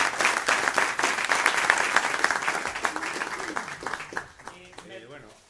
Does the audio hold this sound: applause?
yes